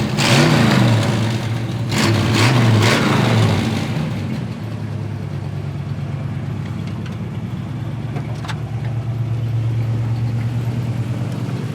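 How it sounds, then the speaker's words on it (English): A 1979 Chevrolet Camaro Z28 with a built 400 engine and headers gives a few loud, close revs with sharp blips early on, then settles into a deep, lumpy, steady idle. "This one's got a built 400 underneath the hood. Good power, good sound, nice set of headers."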